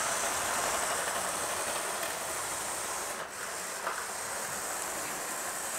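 An H0-scale model locomotive hums and rumbles steadily as it runs around a curved track, a constant close whirring with a brief dip, no talking.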